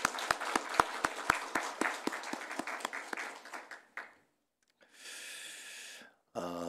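Church congregation clapping for the choir at a Sunday worship service: a run of distinct, fairly close handclaps in a steady rhythm for about four seconds, then quiet and a brief hissy stretch of noise.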